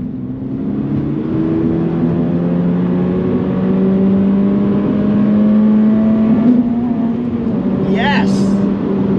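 A 2022 Subaru BRZ on the move, its engine note a steady droning hum that slowly climbs in pitch, heard from inside the car, with a brief faint voice near the end.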